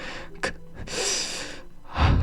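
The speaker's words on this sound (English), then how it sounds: "A sharp inhale, like someone is sucking the air through their teeth." A few sharp, hissing intakes of breath through teeth in Doki Doki Literature Club, close and strained, with short pauses between them.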